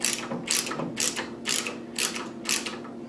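A ratcheting socket wrench with a 9/16 deep socket and extension snugs a bolt on a Redding Model 7-1 reloading press, giving six evenly spaced bursts of clicking about half a second apart, close and moderately loud.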